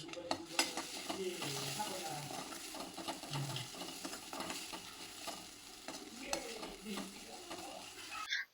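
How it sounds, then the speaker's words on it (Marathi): Tomatoes and spice masala of coriander-cumin powder, turmeric, chilli and salt frying in a pan for a dhaba-style soya chunk curry, with steady sizzling and repeated close scraping strokes of a spoon stirring throughout. "टोमॅटोला छान भाजून घ्यायचं. टोमॅटो व्यवस्थित त्यात मिक्स झाल्यानंतर त्यामध्ये आपले मसाले टाकून घ्यायचे."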